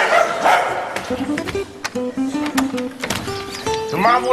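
A large dog that has got into a villa in a comedy sitcom barks in short, loud bursts mixed with higher yips. A voice is also heard in the scene.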